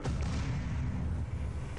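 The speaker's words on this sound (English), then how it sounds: "Some explosion sounds." Explosions in the Doom SnapMap video game: a continuous heavy, rumbling blast texture with dense low-end booms running the full length, loud and unbroken, with no talk over it.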